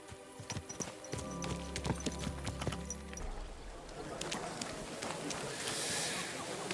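Horse hooves clip-clop in a steady walking rhythm in the medieval video game Kingdom Come: Deliverance 2, fairly close and distinct at first, then fading under a wash of wind and ambient noise.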